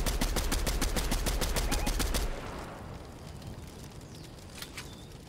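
Loud, rapid automatic gunfire from the video game Fortnite rattles in dense bursts for about two seconds, then cuts off, leaving quieter in-game ambience with a few faint distant pops.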